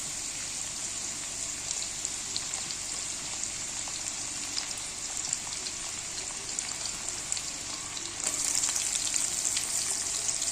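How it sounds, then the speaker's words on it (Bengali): Potatoes frying in hot oil for a thin egg curry give a steady, even sizzle with a soft crackle, holding level throughout and growing a little louder and denser near the end. "দেখো বসিয়ে দিয়েছি তেল। দেখো এখানে নিয়েছি আলু আর পেঁয়াজ কলি ভাজবো।"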